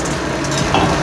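Broccoli frying in mustard oil in a kadai for a Kolkata street-food aloo broccoli fry, giving a steady, close, fairly loud broadband sizzle that holds evenly for about a second with no voices.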